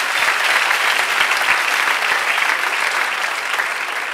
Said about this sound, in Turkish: Ayşegül ve Hamdi'ye bir alkış isterim burada ve Emre'ye.